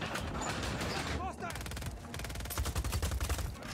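Rapid video-game gunfire from Just Cause 4, bursts of shots running through most of the stretch with a denser, punchier volley near the end, mixed with game sound and music.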